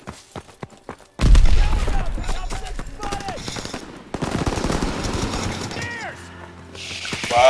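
Loud automatic weapon fire from the World War II shooter Call of Duty: World War II, bursting in after a quiet second and rattling on in dense volleys, with mechanical clicks and a reload clatter near the end.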